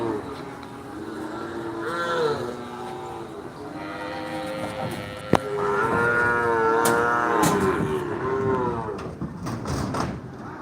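Cattle low and moo repeatedly at the Ambari cattle market in Dinajpur, several long overlapping calls close by over a busy outdoor murmur, with a sharp knock partway through.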